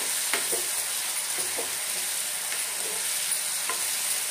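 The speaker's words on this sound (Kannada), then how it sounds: "ಮಧ್ಯ ಒಂದ್ಸಲ ಈ ರೀತಿ ತಿರುಗಿಸ್ಕೊಳ್ಳಿ" A tomato and onion mixture for onion saagu fries with a steady, hissing sizzle in a pan while a utensil stirs it now and then with soft, scattered scrapes.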